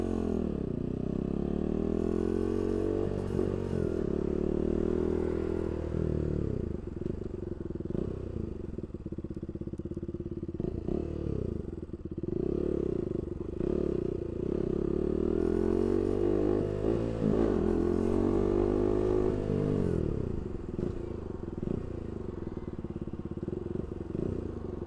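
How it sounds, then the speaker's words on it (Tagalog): A Husqvarna Svartpilen 200 motorcycle engine revs repeatedly while riding on a long road loop, rising and falling in pitch with throttle blips, a steady loud buzz under wind. "Yun ba yung rev matching?"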